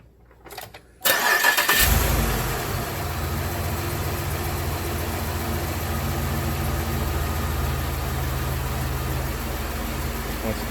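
A 2007 Chevrolet Monte Carlo SS engine cranks briefly after an alternator replacement, catches with a loud burst, and settles into a steady idle that runs on close by.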